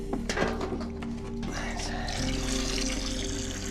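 Liquid runs into a container with a steady splashing pour, accompanied by clinking and handling noises, in a dramatic epidemic scene.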